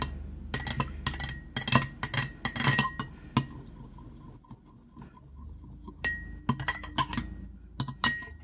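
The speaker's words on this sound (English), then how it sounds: "it says to stir it until they're completely dissolved" A spoon stirs dissolving crystals in a glass, producing close, bright clinks in rapid bursts, a pause, then another flurry of tapping against the glass.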